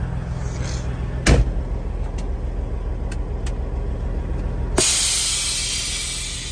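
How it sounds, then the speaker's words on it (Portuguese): Compressed air blown onto feet inside a truck cab: a sharp, loud hiss bursts out, then fades gradually, after an earlier brief thump and a few faint clicks. "Passar um ar no pé aqui pra não sujar o caminhão"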